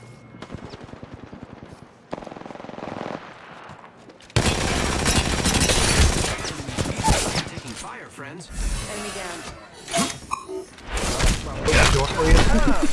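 Gunfire rings out in the video game Apex Legends, with rapid automatic bursts and single shots crowding together, loud and close, alongside weapon-handling clicks, and game voices talking over the firing.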